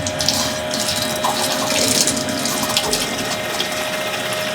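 Water rushes steadily through a Cobra geyser pressure control valve as it is flushed to purge dirt from the main seat, a continuous loud hiss and gurgle with no talk.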